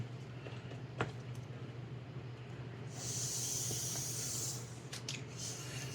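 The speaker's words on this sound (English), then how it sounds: "I'm going to put a couple drops on my airbrush" An airbrush spraying thinned paint, a soft steady hiss that starts midway through and runs for about two seconds over a low background hum, with a few faint clicks around it.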